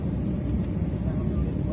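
An airplane in flight circles low over the sea near naval ships, its engines giving a steady, even cabin roar that holds without a break through the short stretch.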